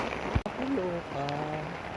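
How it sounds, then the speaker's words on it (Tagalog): Steady rain falls throughout, a dense, even hiss that never lets up, with a sharp knock near the start and a person's voice talking over it midway. "Nakatakot yung ulan. Mula sa likod papunta sa harapan ko."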